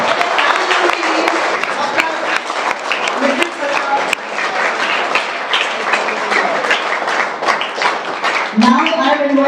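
An audience at an indoor workshop event claps loudly and continuously in dense, sustained applause, with a few voices mixed in over it.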